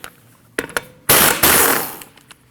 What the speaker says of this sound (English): you need to remove your 5 lug nuts